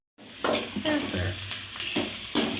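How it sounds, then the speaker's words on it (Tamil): A sliced large onion dropped into hot oil with fennel seeds and cinnamon sticks in a pan, starting with a sudden sizzle that holds steady and close, with a few stirring scrapes and no talk. "பெரிய வெங்காயம் 1 வெங்காயம் கட் பண்ணி போட்டு"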